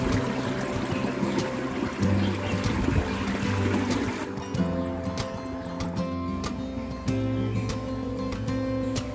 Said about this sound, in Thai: ตรงนี้เป็นกำแพง2ด้านนะคะแล้วก็มีน้ำไหลลงมา